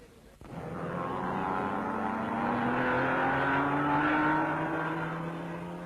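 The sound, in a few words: race cars at the 1961 Le Mans start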